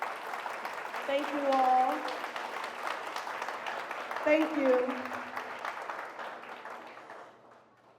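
Audience applause for local officials at a town hall in Chelsea, a steady wash of many hands clapping throughout while a speaker's voice talks over it, fading toward the end.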